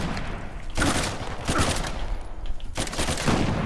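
Bursts of rapid gunfire ring out in the video game Uncharted: The Lost Legacy, three dense volleys crackling close and loud in quick succession.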